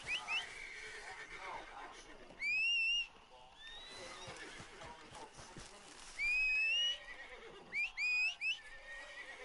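In Red Dead Redemption 2, a horse neighs repeatedly, several loud drawn-out whinnies spaced across the stretch, close and prominent, with someone talking in between.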